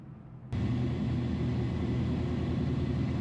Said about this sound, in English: I'm hearing some of the cars already take off